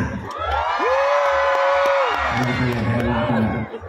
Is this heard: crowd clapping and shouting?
yes